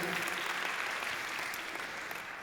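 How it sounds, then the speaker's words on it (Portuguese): A crowd claps steadily, a dense wash of applause that tapers slightly toward the end. "uma salva de palmas para a Gisela"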